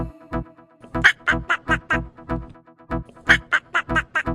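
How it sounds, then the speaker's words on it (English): A duck on a pond quacks in two quick runs of nasal, evenly spaced calls, loud and close, with a short pause between the runs. "The duck in the pond says quack, quack, quack."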